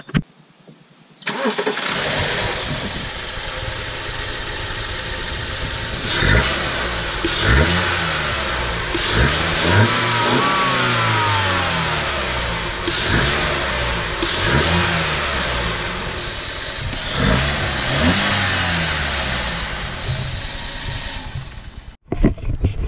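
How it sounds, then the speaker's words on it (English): BMW 1 Series fitted with a RamAir air filter starting and then revving repeatedly, each throttle blip rising and falling over a steady idle, loud and close, with no talking. "now we're going to give it a little rev and see what happens"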